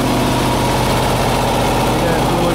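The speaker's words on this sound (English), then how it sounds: "exhaust coming right out of the bumper" A fully restored 1960 Chevrolet Corvette convertible with dual exhaust exiting through the bumper idles close by, a steady, loud, low rumble that holds unchanged throughout.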